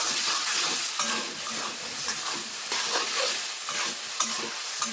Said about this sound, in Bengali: আলু দিয়ে আর একটু কষিয়ে নেবো